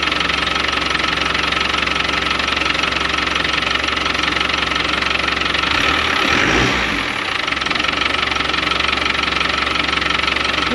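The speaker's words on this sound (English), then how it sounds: "That clutch is rattly," Steady close idle of a Land Rover Defender 110 Overlander, its clutch rattling in a constant mechanical clatter over a low engine drone, with a brief dip about two-thirds through and no voices.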